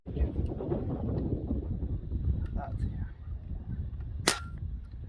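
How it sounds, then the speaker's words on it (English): An air gun fires a pellet through a Caldwell Ballistic Precision chronograph: one sharp, loud crack near the end, rising out of a steady rushing background noise. "So maybe we can take another shot here with this gun and see what it can do with pellets as well."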